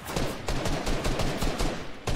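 Rapid gunfire in a World Cup finals video game match, a continuous string of quick shots crackling at a moderate level with no talk over it.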